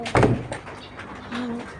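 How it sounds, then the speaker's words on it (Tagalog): A door swings shut with a single solid thud, close and fairly loud, followed by quiet room tone with faint outdoor ambience from a rainy day. "Sasara ko na yung pinto."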